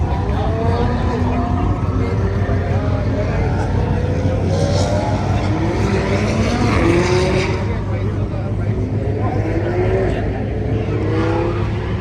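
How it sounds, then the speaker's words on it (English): A Dodge Hellcat pulls away amid a Labor Day car gathering, its engine a steady loud rumble that swells and fades as it leaves, with people talking over it throughout. "The Hellcat's leaving."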